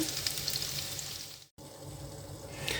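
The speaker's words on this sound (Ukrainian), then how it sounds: "Вже поставила сковорідку, смажаться котлети." Chicken cutlets made with semolina sizzle in a frying pan, a steady, soft crackling hiss close up, briefly cut off for a moment before resuming.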